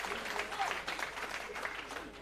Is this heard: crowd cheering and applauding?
yes